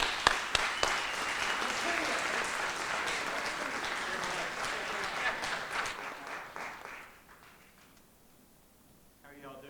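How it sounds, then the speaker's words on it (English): A crowd at an evening storytelling event claps loudly for several seconds, the applause thinning and fading away near the end into a quieter room before a voice begins. "So let's give Pete a round of applause."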